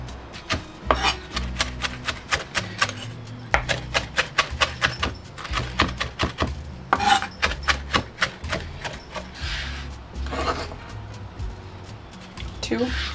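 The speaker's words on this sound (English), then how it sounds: "So I'm just going to do a little chop." A knife chops fresh parsley on a cutting board in quick, rapid bursts of sharp taps, pausing briefly between runs, close and fairly clear.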